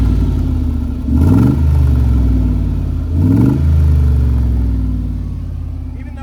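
A Mercedes-Benz G-Class with a 5-litre petrol engine on gas idles loudly near the exhaust, then revs twice in deep, rising bursts before settling back to a heavy burbling idle.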